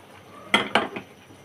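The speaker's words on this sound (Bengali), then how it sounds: "একটু ফ্লেমে এভাবে নাড়িয়ে নিচ্ছি।" Egg dish being stirred in a pan over a flame, with three quick scraping clinks of a utensil against the pan, close and fairly loud, amid a quiet kitchen background.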